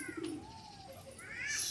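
Madrasi and Giribaz pigeons give soft, low cooing calls close by in an open outdoor spot, a short murmured coo over faint background noise.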